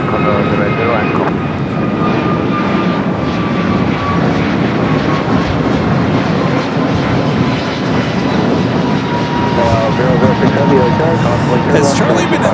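Heavy Boeing 777 and Dreamliner jets at Los Angeles LAX airport give off a loud, continuous engine roar that stays steady throughout, with voices talking underneath.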